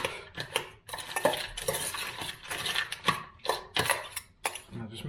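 Dog food and meat being mixed in a bowl for a whippet, with repeated clinking and scraping of a utensil against the dish, close and fairly busy, and no talking.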